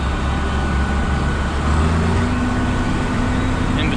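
A John Deere 4440 tractor engine runs steadily during a corn silage harvest, a dense, continuous low rumble heard close up from inside the cab.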